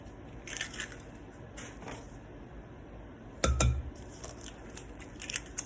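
Large farm eggs cracked into a bowl for a homemade cheesecake, giving a few sharp clinks and taps on the bowl rim, one louder crack near the end, with quiet kitchen handling between.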